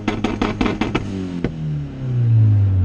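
Red Honda Civic engine held at full throttle against a two-step launch limiter around 6,200 RPM, loud and close, with a rapid choppy popping stutter for about a second, then a smoother, steadier high drone building to the end.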